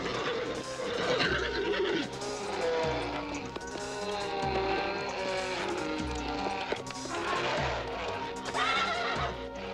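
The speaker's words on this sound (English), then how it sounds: "A lick of the tongue, a brush of the wing. You can see Pegasus obviously likes the kid" A winged horse, Pegasus, neighs and whinnies loudly in a 1979 film, with clip-clop hooves and a busy music score underneath throughout.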